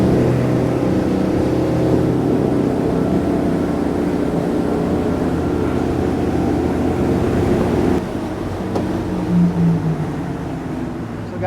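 A 2023 Regal LS36 motorboat's engine drones steadily at 22 to 23 knots, loud and close, with water rushing underneath and a slight drop in level near the end.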